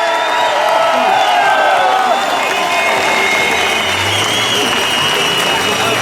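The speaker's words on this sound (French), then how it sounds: "Un tonnerre d'applaudissements" A large outdoor crowd at a street demonstration in Geneva claps and cheers loudly and steadily throughout, with a dense, continuous roar of applause.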